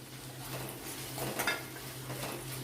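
Shredded cabbage goes into softened vegetables for Chinese rice and is stirred in a pan, with soft scraping and clinking of a utensil over a faint sizzle, close but quiet.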